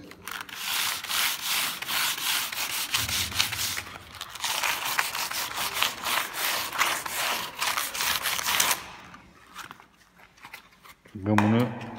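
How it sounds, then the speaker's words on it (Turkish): Hand sanding a Suzuki Carry body panel before repainting: repeated rasping back-and-forth strokes, close and fairly loud, running for about nine seconds before stopping, then a brief knock or handling noise. "burayı zımparalayacağız."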